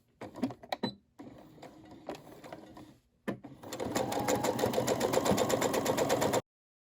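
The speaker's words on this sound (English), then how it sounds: "I'm going to go ahead and sew around the entire thing, leave an opening about 3 inches so I can turn it right side out" A sewing machine stitches around a fabric pouch for microwaving potatoes: a few short stop-start bursts and handling clicks, then a steady, close rapid whir of stitching for a couple of seconds before stopping.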